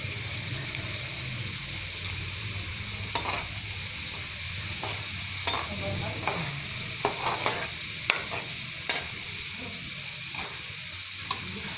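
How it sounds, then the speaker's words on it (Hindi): Homemade potato chips, like French fries, frying in hot oil, a constant dense sizzle with soft stirring scrapes and occasional small clicks throughout, close and steady with no talking. "ये मैंने आलू की चिप्स फ्राई कर ली हैं"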